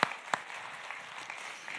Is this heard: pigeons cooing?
no